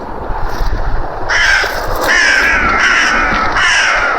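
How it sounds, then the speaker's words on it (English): Crows cawing around an open abbey ruin, several harsh calls repeating loudly and close over steady outdoor background noise. "Crows are shouting at us."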